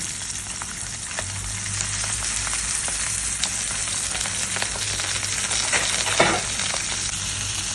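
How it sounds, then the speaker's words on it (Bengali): Katla fish heads fry in hot oil with a steady, dense sizzle, broken by a few louder crackles and pops, one sharp burst near the end; no one speaks. "আমি মাছের মাথাগুলো ভালো করে ফ্রাই করে নেব।"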